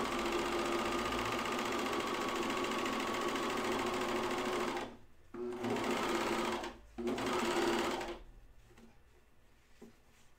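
A 4-thread serger stitches around a round fabric edge on a dress, its fast steady motor hum running loud for about five seconds, stopping briefly twice, resuming, then winding down to quiet handling noise.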